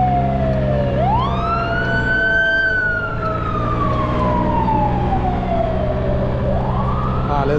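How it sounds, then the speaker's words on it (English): Ambulance siren wailing close by in city traffic, sweeping slowly up and down in long rising and falling tones over the steady rumble of a passing vehicle. "Oh, you fucking ambulance."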